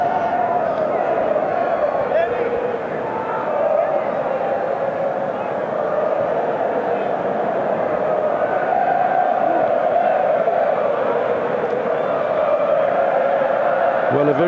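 A rugby stadium crowd before a South Africa versus Wales match roars as a dense, sustained wash of cheering, with a commentator talking over it.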